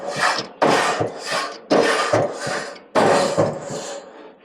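A Kona bristle-free coil brush scrubs back and forth across grill grates in rough, rasping strokes, about six close, loud scraping passes with brief pauses between them.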